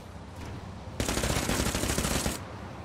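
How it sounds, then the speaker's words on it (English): Rapid automatic gunfire from a shooting video game bursts in loud and dense for about a second and a half, then cuts off abruptly. "We're still shooting."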